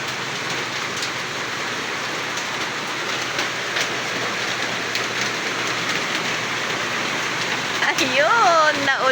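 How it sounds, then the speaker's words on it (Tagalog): Rain falls steadily in a continuous, dense hiss onto a surface, where a basin is set out to collect it. A voice speaks briefly near the end. "Pero para maipon yung ulan."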